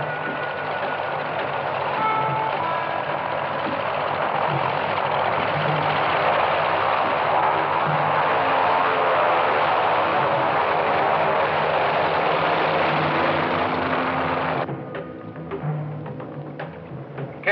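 Aircraft engines drone steadily from inside the cabin during flight, a loud continuous muffled roar that drops away abruptly near the end, leaving faint background hum.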